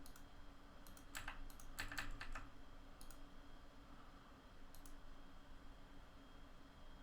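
Typing on a computer keyboard used for Chamsys lighting programming, with bursts of rapid clicking keystrokes in the first half and a few sparse taps later, fairly close over a steady background hum.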